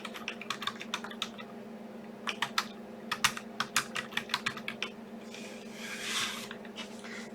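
Fast bursts of keystrokes on a computer keyboard, close and crisp, in uneven clusters of rapid taps with short pauses over a faint steady hum.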